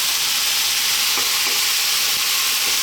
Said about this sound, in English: Now we're going to add in our fresh mushrooms.